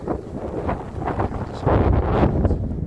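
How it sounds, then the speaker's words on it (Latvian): Strong gusting wind in Åre buffets the microphone with a continuous roaring rumble that swells louder partway through. "Baigais vējš."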